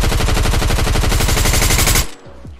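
Rapid sustained automatic gunfire from a Fortnite match while the player drop shots, spamming crouch, a loud dense burst for about two seconds that cuts off abruptly, leaving a faint tail.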